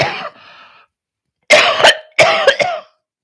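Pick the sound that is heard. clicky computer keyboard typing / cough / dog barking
cough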